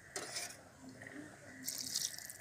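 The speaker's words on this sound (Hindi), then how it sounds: "पहले से गरम पानी करके रखे थे, फिर डाल देंगे इसमें।" Pre-heated hot water poured into a pot of Nayagarh-style masala mutton curry, heard as a soft splashing and trickling in two short bursts, fairly quiet and close, with no one talking.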